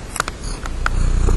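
A cat purrs in a low, close, steady rumble, with a few short chirping vocal sounds over the top.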